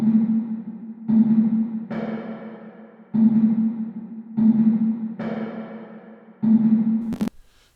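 Soloed reverb from a conga beat prepared for an immersive Dolby Atmos mix: a steady pattern of roomy hits, each trailing a long washy decay, repeating alone with no talk.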